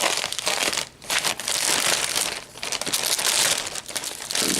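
Crinkling, rustling wrapping torn and crumpled away from a packaged Spyderco knife, close and loud, in steady bursts with brief pauses between pulls.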